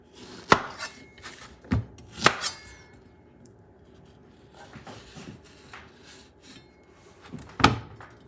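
A knife cuts through green plantain for tostones in a few sharp, scattered chops with scraping pauses between them, close up and without speech.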